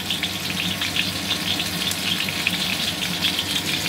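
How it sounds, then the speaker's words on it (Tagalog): Chicken coated in a spicy bake mix frying in hot oil, a dense, continuous close-up sizzle and crackle with no pauses or voices. "iprito natin siya yan hanggang mag-golden brown siya"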